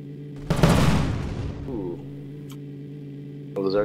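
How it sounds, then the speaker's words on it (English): A single loud cannon blast in the game M.A.V. booms close by and rolls away into a fading rumble, followed by quieter game sounds and a brief voice. "No, it was a cannon right behind me."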